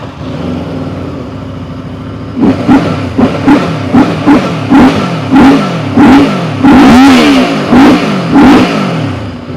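A Benda Dark Flag 500 four-cylinder V4 motorcycle engine idles, then revs sharply again and again in quick bursts, loud and close with a throaty growl.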